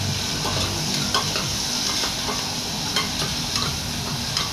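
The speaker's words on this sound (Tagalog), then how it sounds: "Yun lang isahin natin yung sibuyas, kamatis, saka bawang. Ito nga po at haluin ko." Onion, tomato and garlic sautéing in a pan while being stirred, a continuous close sizzle broken by regular scraping strokes of the spoon.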